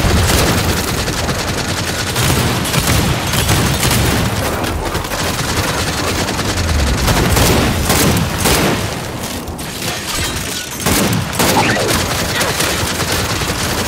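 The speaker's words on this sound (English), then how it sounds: "Throwing frag!" Frag grenade blasts and sustained gunfire in the Gears 5 campaign, a dense, loud wall of booms and rapid shots that continues throughout with only a brief dip near the end.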